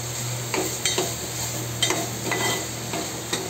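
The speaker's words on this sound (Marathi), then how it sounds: "चांगल्या प्रकारे असं हलवून घ्यायचं." A spoon stirs onion-coconut paste around a hot pan, scraping in a few distinct strokes over a steady, close sizzle.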